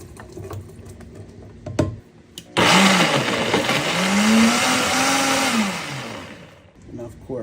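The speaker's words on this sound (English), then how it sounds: "we're going to pour in our blender" A blender whirs loudly and steadily as it purées a homemade pepper sauce, its motor pitch shifting slightly for a few seconds before cutting out, with faint kitchen noise before and after.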